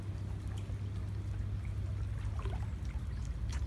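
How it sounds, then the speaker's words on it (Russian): Flood water flows along the flooded Chernyshevsky Street in Kerch, a continuous low rumbling wash with faint splashes and trickles, steady and unbroken throughout. "Вода все идет и идет."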